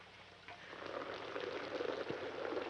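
Water running steadily indoors, a soft, even rushing and splashing that swells slightly after the first half second and carries on without a break, with no voices over it.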